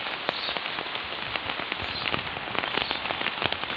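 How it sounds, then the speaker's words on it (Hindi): Rain falling steadily in a garden on a rainy morning, a dense patter of drops with sharper individual taps striking leaves and surfaces nearby, continuous and alone without voices. "3 दिन से हमारे यहाँ बारिश हो ही रही है"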